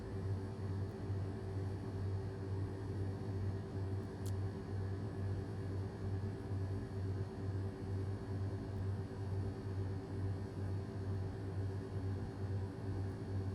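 Piper PA31 Navajo twin-engine plane slowing in the X-Plane 11 flight simulator, a steady low engine drone with a hissing rush over it, unbroken throughout.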